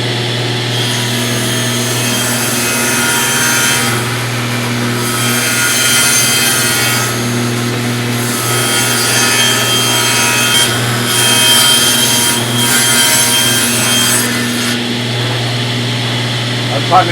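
A paulownia wood board for a surfboard blank being fed through a power saw blade, a steady buzzing machine drone with rasping cutting that swells and eases over the passes; a person talks over it.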